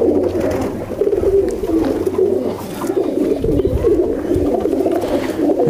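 Low flyer pigeons cooing close by, with repeated soft, throaty coos overlapping in a steady, continuous rhythm.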